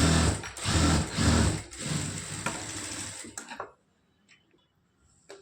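A sewing machine runs steady bursts of rapid stitching on a lined puff-sleeve blouse, loud and close, then stops and leaves a few faint clicks.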